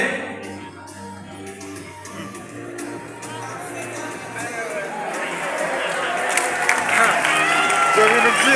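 An audience at a University of Rwanda event breaks into applause and cheering that swells toward the end, following someone speaking into a microphone over the hall.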